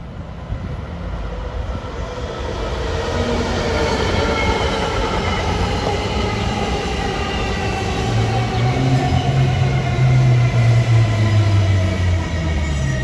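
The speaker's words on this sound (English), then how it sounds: "That was train 3373. That's a Bayhead job." A Northeast Corridor train, number 3373 on Bay Head service, passes at Linden, New Jersey, with a steady loud rumble of wheels and rail that builds and holds for the whole stretch, with a low drone rising near the end.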